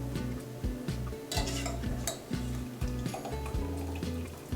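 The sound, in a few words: draining boiled escarole with slotted spoon into soup pot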